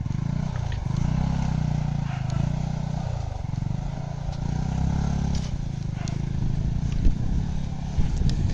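A motorbike engine drones and labours loudly up a dusty dirt mountain road, with a steady low rumble, occasional clatter and scraping, and voices talking over it.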